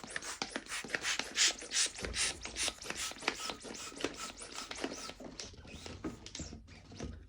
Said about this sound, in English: So they'll be using a pump just to pump it.